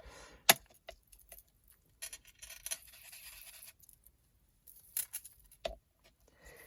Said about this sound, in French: Donc, je suis désolée s'il y a du bruit avec mon bracelet.